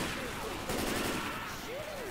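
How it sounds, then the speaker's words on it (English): Rapid gunfire in the zombie shooter game Left 4 Dead 2, a dense continuous clatter of shots under game noise, fairly faint, with a voice faintly heard. "Stop shooting me!"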